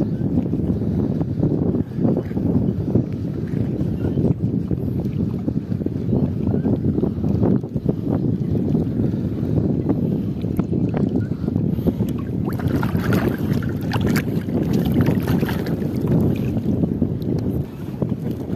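Strong beach wind at Mertasari Beach, Sanur, Bali buffets the microphone continuously, a loud rushing roar with gusty swells and no voices.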